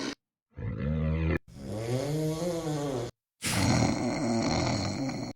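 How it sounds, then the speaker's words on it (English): Snoring sound effect made of three separate takes of deep, rattling, drawn-out breaths, loud and close, divided by short gaps of silence. "So we want some snoring."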